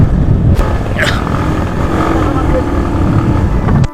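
A motorcycle climbs uphill on a mountain road at Nathu La Pass in Sikkim, near the India-China border, its engine droning loudly and steadily close by, with wind noise over it.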